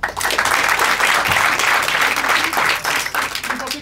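Audience at an improvised-theatre maestro show in Paris applauds steadily for a full few seconds, dense sustained clapping filling the room as a vote for a performer.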